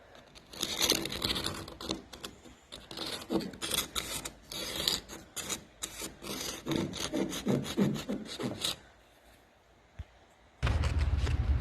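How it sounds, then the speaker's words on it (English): Clear coat is sanded by hand from a wooden staircase with rapid, close rasping strokes in an uneven rhythm, then a short quiet pause before a low rumbling noise returns. "I'm going to take my sandpaper, my P120 sandpaper, which is for the raw wood."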